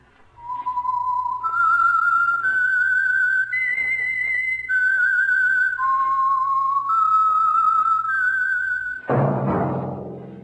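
A lone whistled theme tune from an old radio mystery show, sustained gliding notes rising and falling for several seconds, followed by a sudden burst of noisy sound.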